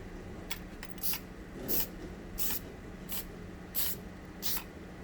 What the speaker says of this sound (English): This is just a multi-purpose spray adhesive.